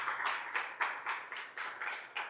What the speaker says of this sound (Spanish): le damos un fuerte aplauso a ella en el día de su cumpleaños